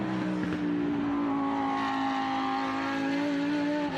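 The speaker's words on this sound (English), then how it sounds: "We've got a Lamborghini out on track" A Lamborghini race car runs demo laps on the Laguna Seca track, its engine holding a steady loud drone with a slowly shifting pitch throughout, no voices heard.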